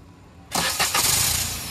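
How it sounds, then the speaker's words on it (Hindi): A Wagon R car engine, reported as vibrating heavily after the engine seized at four years old, cranks and catches after a half-second of quiet, then runs loud and close with uneven pulsing. "ये देखो भाई कितना वाइब्रेट होकर स्टार्ट हुआ इंजन"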